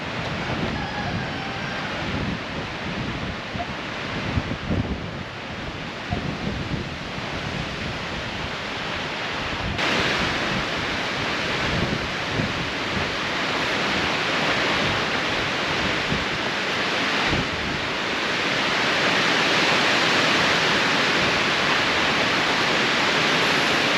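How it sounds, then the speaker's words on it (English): Strong wind gusting to 40 knots in Alaska roars continuously, building in gusts and swelling louder toward the end, a heavy rushing noise with no voices. "right now we're gusting at 40 knots"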